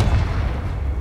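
A Confringo fire spell explodes in Hogwarts Legacy, a single dense, loud blast with rumbling low-end weight that sustains and rolls on without a break and with no talk over it.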